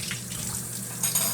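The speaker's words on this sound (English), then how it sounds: "Gonna wash the knife." Tap water runs steadily over a knife being washed in a sink, a close splashing rush that surges briefly near the end.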